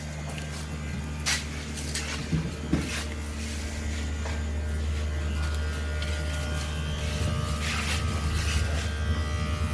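A solar-powered ice block machine making ice runs with a steady, low electrical hum and buzz throughout, with a few faint clicks and knocks near the unit.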